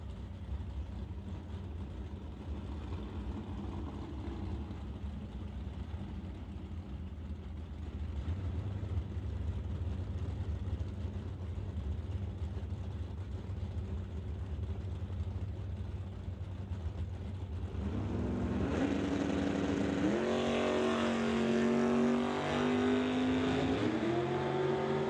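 A 1966 Chevy II drag car sits rumbling at the line, then launches into a loud, rising engine roar with sharp gear-shift steps in pitch, the run sustained and close at an old-time drags event.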